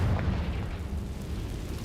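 A Confringo blasting spell in Hogwarts Legacy goes off as a dense, rumbling explosion, heavy low-end boom sustained through the moment without voices.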